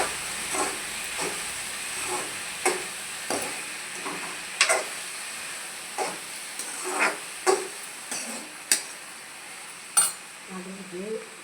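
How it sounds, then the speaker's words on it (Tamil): Ridge gourd sautéed with salt in a home kitchen pan gives a steady soft sizzle and hiss, broken by repeated sharp scrapes and taps of a spoon stirring, close by with no talk over it. "நல்லா வதக்கணும்."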